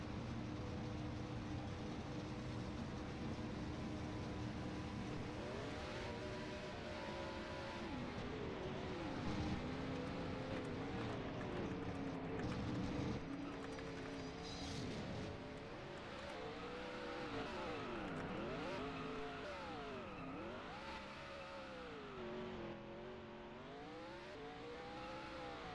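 A race car doing burnouts at an AIRL event in Phoenix, heard as a sustained, fairly distant engine roar with repeated rising and falling revs throughout.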